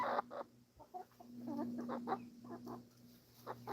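An Easter Egger hen clucks on a homestead with a run of soft, close, irregular clucks and murmurs over quiet background hum.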